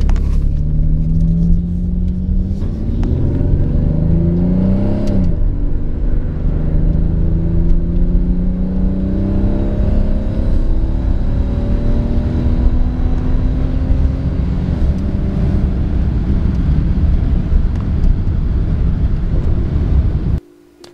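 An Alfa Romeo 164 V6 Lusso automatic running loud and close, its engine rumbling and revving, with pitch rising and falling through the gears and steady wind buffeting over the drone until it cuts off at the end.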